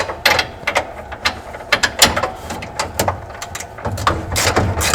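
Ratchet wrench clicking rapidly in short uneven bursts while a nut is removed from the front bolt of an actuator, close and loud mechanical ticks with brief pauses.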